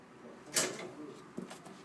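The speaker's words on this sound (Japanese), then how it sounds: "より大きなドアが開きました" A parcel delivery locker's larger door pops open with a sharp latch click, followed a moment later by a softer knock as the door swings, quiet and close.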